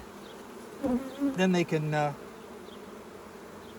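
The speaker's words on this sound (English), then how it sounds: "on this side, it's got more worker bees" Honey bees buzz steadily around a beeswax comb full of honey and worker bees, a soft continuous hum beneath someone talking nearby.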